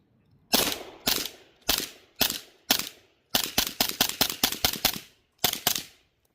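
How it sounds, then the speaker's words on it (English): A TP9 subgun fires 147-grain Federal rounds, a sharp suppressed-sounding series of shots: several single cracks, then a fast rapid string, then two more, each with a short ringing tail. "Ian, you want to throw some rounds down range and show these guys the TP9?"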